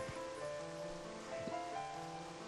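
Steady rain falls in the Zelda: Twilight Princess video game (GameCube version), a soft continuous hiss under melancholy, sustained game music.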